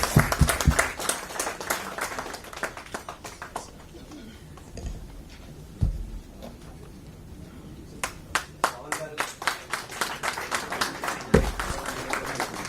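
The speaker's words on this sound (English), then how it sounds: "Can we have a round of applause again, everyone," A conference audience at a business conclave claps for a panel in bursts of scattered applause, some fading and then swelling again toward the end, with speech heard in between.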